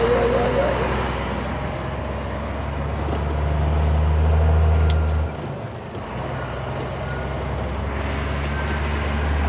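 Car rolling slowly over a dirt road in rural Brazil, a steady low rumble of engine and tires on gravel that swells, drops sharply near the midpoint and continues more quietly, with no talk.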